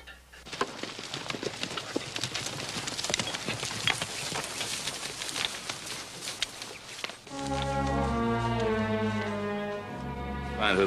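Horse hooves clip-clop in a quick, steady rhythm, then give way to a loud, low droning tone that sustains to the end.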